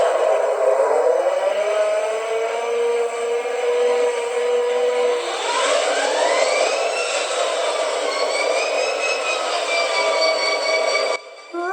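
A model Southern Pacific GP40X diesel locomotive fitted with a LokSound 5 decoder starts up, its engine sound cranking and then settling into a steady idle, with rising tonal whines layered over a constant close hum.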